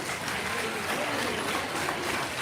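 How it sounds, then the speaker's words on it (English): Classroom applause for a student who answered correctly, a steady dense patter of clapping from a group filling the whole moment, with some faint voices mixed in. "A big round of applause to him."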